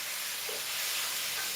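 Steak frying in butter, shallow enough to almost deep-fry, gives a steady broadband hiss and crackle that runs close and unbroken the whole way, with no one talking.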